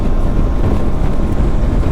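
Loud, rumbling wind buffeting a microphone on a motorcycle ride over flat, windy country, a constant roaring blast like riding at speed.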